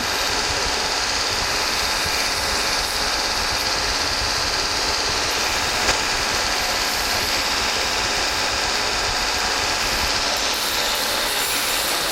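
A steady, loud abrasive whine of a Norton Blaze belt grinder rough-grinding a steel tomahawk blade, close and unbroken for the whole stretch.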